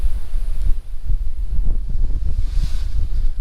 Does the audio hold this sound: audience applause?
no